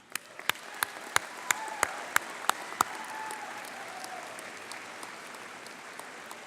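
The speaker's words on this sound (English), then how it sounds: "let's give our convocates one more round of applause" Audience at a college convocation ceremony applauding, with a run of evenly spaced crisp claps over a soft, steady wash of distant clapping that fades toward the end.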